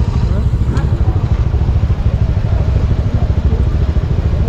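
A motorcycle engine idles on a road trip through Ilocos in the northern Philippines, giving a steady, close, low rumble with light mechanical clatter throughout.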